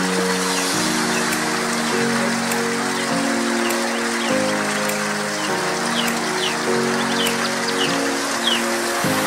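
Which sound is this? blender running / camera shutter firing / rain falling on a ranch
rain falling on a ranch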